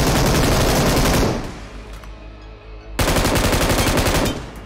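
Loud automatic gunfire in a first-person shooter game, one sustained burst, a pause of under two seconds, then a second long burst, close and dense with no voices over it.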